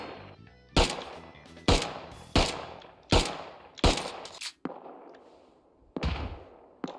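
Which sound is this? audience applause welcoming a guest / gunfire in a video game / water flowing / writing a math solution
gunfire in a video game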